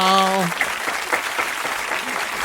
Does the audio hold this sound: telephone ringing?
no